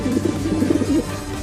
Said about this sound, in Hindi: चिंटू के घर में से कबूतर की आवाज आ रही है।